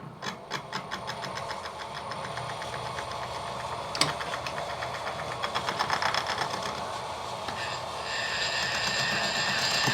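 A milling machine starts up for a crankcase thread repair on a Stuart steam model. A rapid rhythmic mechanical clatter settles into a steady running whir, with one sharp knock partway through and a slight rise in pitch near the end.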